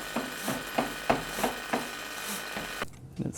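A small screwdriver turns out the screws on a Framework Laptop 16 Radeon graphics module, giving repeated close scraping ratchets in a steady rhythm, then a brief pause and a couple of quieter clicks.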